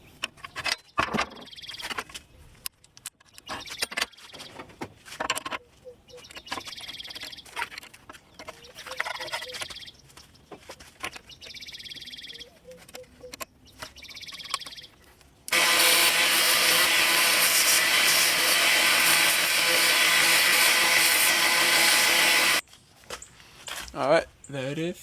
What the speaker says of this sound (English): I'm going to get the small wheel attachment and clean up there